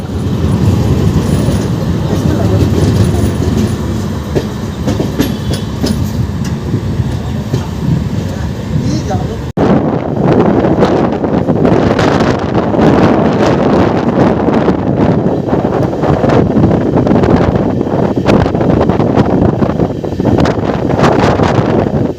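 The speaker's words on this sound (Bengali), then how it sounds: "আর এই দেখুন আমাদের ট্রেন কিন্তু লাইন চেঞ্জ করছে।" Aranyak Express LHB train (12885 Shalimar-Bhojudih) running at speed while switching from the loop line to the main line, a loud, continuous rumble and rattle of wheels with heavy wind buffeting, briefly cut partway through before resuming just as loud.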